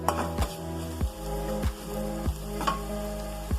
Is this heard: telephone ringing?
no